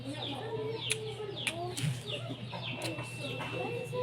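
Chickens cluck and squawk nearby in a rural yard, with a few sharper calls standing out, while a person talks quietly in the background.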